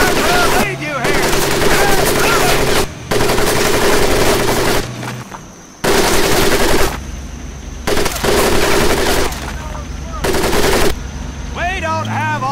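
Sustained automatic machine gun fire from the Medal of Honor Pacific Assault video game, loud bursts of rapid shots broken by brief pauses across the whole stretch.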